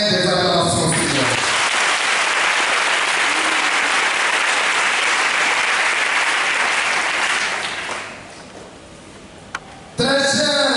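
A congregation at a Mass for the sick bursts into loud, sustained applause and acclamations that fade after about eight seconds, with brief talk before and after the clapping.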